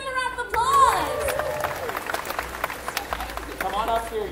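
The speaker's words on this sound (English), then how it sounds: "Let's give them a round of applause." A crowd at a bird show in Disney's Animal Kingdom claps in a scattered patter, with high whistling bird calls and a voice heard around the applause.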